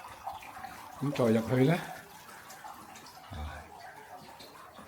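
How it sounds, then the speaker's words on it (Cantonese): Gentle running water flows in a room of a massage and foot-bath spa. It is a quiet, steady trickle, and a person speaks briefly over it early on. "一入嚟咧，有啲流水聲真係好好聽喎，幾治癒"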